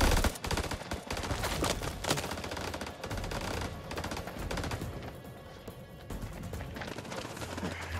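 Rapid gunfire from a firefight in the video game House of Ashes, with dense bursts of automatic and single shots crackling almost continuously and loudly throughout.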